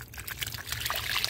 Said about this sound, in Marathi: सगळ्याच बाजूने ओतून घेऊयात.